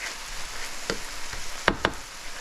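Ginger garlic paste frying with dried shrimp in a pan, the base for a Guyanese dried shrimp and baby bok choy dish, gives a quiet, steady sizzle broken by a few sharp clicks near the end. No one speaks.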